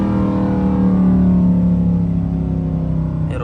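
A car with paddle shifters holding a downshift, its engine note droning steadily and loud at close range with a slight rise in pitch, running continuously without speech.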